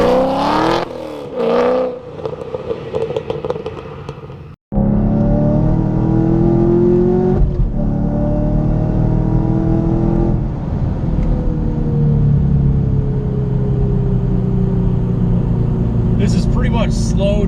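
A car drives along with louvers installed on it, its engine rumbling loudly and steadily and rising as it accelerates. A brief gap in the sound is followed by sustained, dense road and engine noise.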